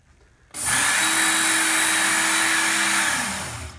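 Work Sharp Ken Onion belt knife sharpener switches on after a quiet moment and runs with a loud, steady motor whine and belt hiss, easing down slightly near the end.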